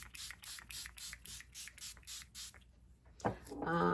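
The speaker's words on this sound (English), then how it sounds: "if I had a little water spray bottle, which I do, a very little one" A small spray bottle mists in about ten quick, even pumps, close and soft, followed by a brief clatter and rustle.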